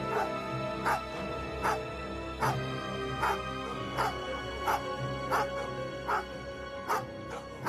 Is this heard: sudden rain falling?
no